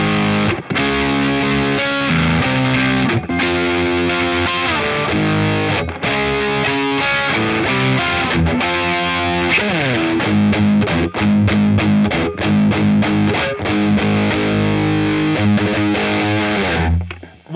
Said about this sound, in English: Right, let's try some distortion.